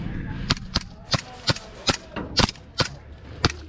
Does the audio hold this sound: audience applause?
no